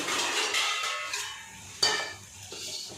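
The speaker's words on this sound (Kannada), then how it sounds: "ಇದನ್ನ ಲೋ ಫ್ಲೇಮಲ್ಲಿ 5 to 6 ನಿಮಿಷ ಫ್ರೈ ಆಗಕ್ಕೆ ಬಿಟ್ಟು" Tomato chutney fries on a low flame, giving a steady broadband sizzle with occasional clinks of a utensil against the pan and one sharp tap near the middle.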